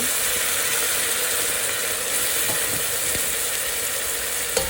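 Onion and bay leaf fry loudly in a pan as tomato is added, a dense continuous sizzle with occasional small crackles and scrapes.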